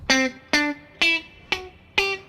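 Fender Telecaster electric guitar on the middle pickup position plays five evenly spaced plucked notes, each a bright, twangy attack that decays quickly, close and alone.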